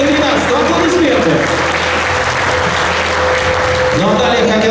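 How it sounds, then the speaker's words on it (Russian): Fans applaud at a football club's meeting with supporters, steady clapping filling the room for several seconds, with a crowd murmur and some voices mixed in. "Аплодисменты."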